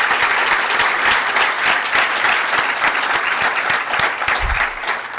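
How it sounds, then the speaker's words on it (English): Sustained applause from an audience at a Tennessee Tech University outstanding alumni awards ceremony, a dense steady clapping that carries evenly throughout, with no talking over it. "Let's give him a round of applause."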